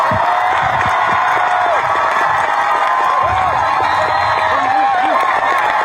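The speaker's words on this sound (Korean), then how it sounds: "큰 박수를 보내주시기 바랍니다" A large crowd at a South Korean presidential candidacy announcement claps and cheers, producing a dense, continuous roar of applause with whoops rising now and then.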